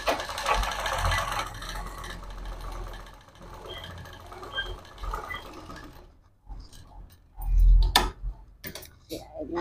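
A sewing machine stitching lace runs in a fast, steady mechanical patter for about six seconds, then gives way to a few louder knocks and handling sounds, close and with no one speaking.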